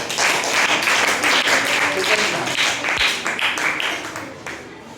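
A group of students applauds in a classroom after a student's Earth globe model is shown, steady dense clapping filling the whole stretch at moderate loudness.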